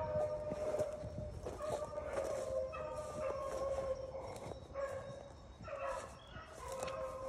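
A beagle bays on a cottontail rabbit hunt in eastern North Carolina, with repeated drawn-out howling bays carrying from a middle distance over quiet outdoor background.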